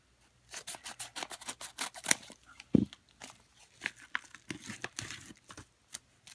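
Scissors snip repeatedly through a mail package, close and crisp, as a quick run of sharp cuts mixed with crinkling packaging gives way to a few sparser snips and rustles.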